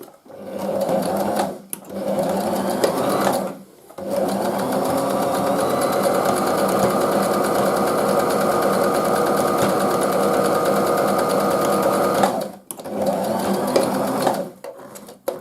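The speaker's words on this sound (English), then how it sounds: "I won this sewing machine years ago." A sewing machine stitches fabric face masks in long continuous stretches, its fast steady whirr broken by a few brief pauses, loud and close.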